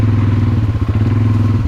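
An ATV engine idles and chugs loudly in low-range four-wheel drive on a dirt trail, with a deep rhythmic throb and small clattering bumps close to the rider.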